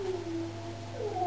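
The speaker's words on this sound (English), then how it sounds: "Sorry about the dogs howling." Dogs howling outdoors near a motorhome, long wavering tonal howls rising and falling over a low steady hum, moderately close, no talking.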